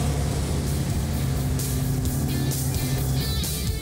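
A vintage Mopar B-body muscle car engine idles steadily with a deep, throbbing low rumble, close and continuous, with a faint hiss in the background.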